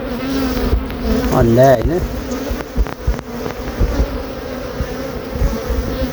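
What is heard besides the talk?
honey bees buzzing at a beehive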